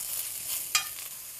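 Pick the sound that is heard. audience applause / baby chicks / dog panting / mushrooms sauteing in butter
mushrooms sauteing in butter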